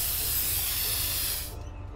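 Loud, close hiss of a spray paint can laying down graffiti in inFAMOUS Second Son, a steady pressurized spray that cuts off abruptly near the end, leaving a faint rattle behind.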